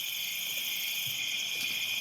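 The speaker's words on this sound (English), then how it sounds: "You're surrounded by the sounds of wildlife, buzzing of bugs." Insects drone in a continuous high, even chirring at night in the wilderness, steady and moderately quiet with no other sounds or voices.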